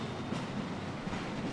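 A train rolls by in the video game Hitman 2, a steady, dense rumble with a faint rhythmic clatter that holds an even level from start to finish.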